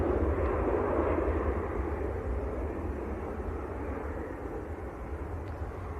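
Ryanair airliner passing over Manchester Airport, a broad roaring jet rumble that holds steady and slowly fades as it moves away, heard from a distance with no talking.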